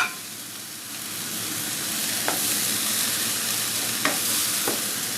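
Two spoons of butter and spices stirred into a pot of masoor dal, a steady bright sizzle throughout with a few faint clinks of the spoon against the pot, no talking.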